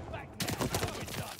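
Shotgun blasts in a multiplayer video game, a burst of loud, close reports after a brief quiet start, layered with fast repeated gunfire and clatter.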